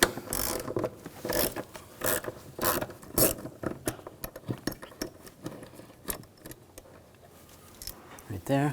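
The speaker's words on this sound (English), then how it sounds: "Now using a 5mm hex socket, take this screw out here." A ratchet clicks in repeated bursts as a 5mm hex socket backs a screw out during fuel pump replacement on a 2007-2013 BMW X5 3.0L inline-six, close and loud, with metallic rattles and someone talking over it.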